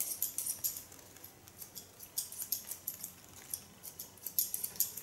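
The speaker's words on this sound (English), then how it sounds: "And I love the sound of the scissor." Scissors snip through hair during a short feminine haircut, a steady run of crisp, close, quiet metallic cuts in fairly regular rhythm with no talking.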